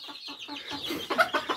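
Soft, close clucking from mother hens settled to sleep with their chicks, a few low murmuring calls rising into slightly louder clucks near the end, no talking.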